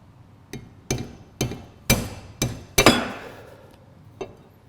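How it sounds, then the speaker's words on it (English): Six sharp metallic hammer strikes at an even pace, then a softer seventh, as a chisel is driven to crack a steering head bearing race on a BMW R80 RT motorcycle, close with ringing decay. "hopefully now with a chisel I can just crack it the rest of the way"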